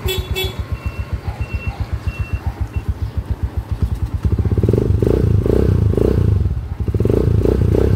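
A Honda TMX125 motorcycle upgraded to a 155cc engine idles close by with a loud, regular single-cylinder thump, then revs up into a denser, throaty roar, briefly drops, and picks up again.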